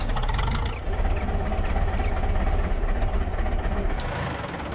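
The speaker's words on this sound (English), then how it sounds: "Can be quiet so you guys can hear that engine." Tractor engine in Farming Simulator 22 running steadily, a continuous low rumble with a constant drone throughout, loud and alone.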